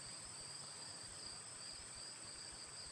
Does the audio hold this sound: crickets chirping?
yes